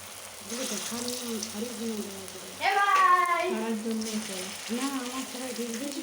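Pakoras bubble and hiss steadily in hot oil, a constant close sizzle running beneath someone speaking throughout.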